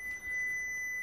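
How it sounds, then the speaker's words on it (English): An electrical tester gives a continuous steady beep while probing wiring on a Vauxhall VXR8 being fault-found for electrical issues, a thin sustained tone heard alone at low level. "let's see if we have a beep on this"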